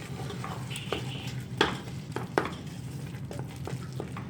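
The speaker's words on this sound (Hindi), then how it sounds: "अब इसको जो है हमने अच्छे से मिक्स करना है।" Carrot halwa with fresh khoya is stirred in a pot, giving soft scraping and a few sharp spoon-on-metal knocks over a low steady cooking murmur, with no talking.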